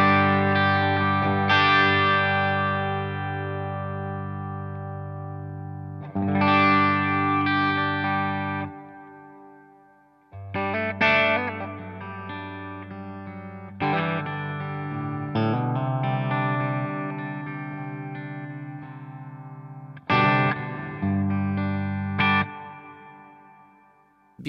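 An electric guitar with Seymour Duncan Seth Lover pickups plays straight into a Revv D20 amp. Loud, sustained distorted chords ring out in several separate phrases with short gaps between them.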